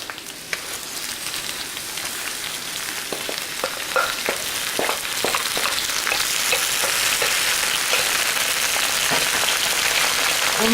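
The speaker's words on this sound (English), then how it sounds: "We're going to cook spinach," Spinach sizzling steadily in hot garlic-infused oil, a dense, close frying hiss that builds slightly in loudness, dotted with sharp crackles and spatters, with no talking.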